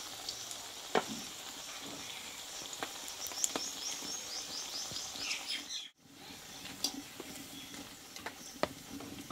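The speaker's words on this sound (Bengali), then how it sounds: "দেখো সুন্দর কিন্তু ভাজা হচ্ছে।" Pieces of a puffed-rice snack frying in hot oil make a steady, close sizzle with scattered pops and a brief pause midway, while faint bird chirps sound in the background.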